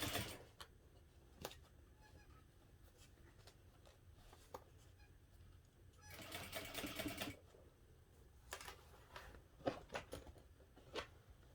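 A sewing machine stitching around a fabric backpack, quiet bursts of rapid needle clatter with short pauses and clicks between runs, one longer stretch of continuous sewing in the middle.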